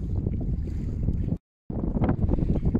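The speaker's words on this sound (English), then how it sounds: "the wind's blowing over all the rain" Steady wind roaring across a microphone on a rainy shoreline where someone is fishing with a mackerel-baited pulley rig, loud broadband buffeting that cuts out briefly midway and then resumes just as strongly.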